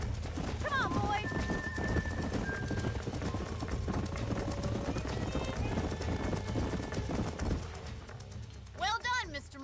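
Horses clip-clop along at a steady pace in the Red Dead Redemption video game, with a whinny near the start and another near the end, under game music and talk.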